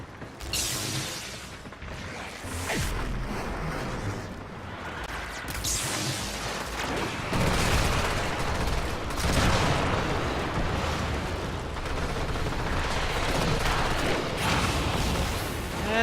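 Enemy gunfire in the shooter Warframe crackles and booms almost without pause, a loud, dense barrage of shots and blasts layered with game effects for the whole stretch.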